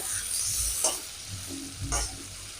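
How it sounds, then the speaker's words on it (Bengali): Tangra fish sizzles quietly in a pan with spices, a low steady crackle close by, broken by a couple of brief scraping stirs as the fish is turned. "এবার আমি ট্যাংরা মাছটা একটু উল্টিয়ে দেবো মানে দুইও পিঠের মশলাটা ভাজা হবে"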